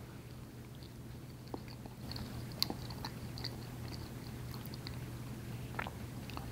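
Someone chews a mouthful of Hostess cherry pie up close: a soft, moist mashing with a few faint crunchy bites, steady and quiet, with no talking.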